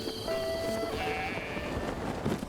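Sheep bleat at a stable in Zelda: Breath of the Wild, one or two wavering calls close by over a soft outdoor ambience.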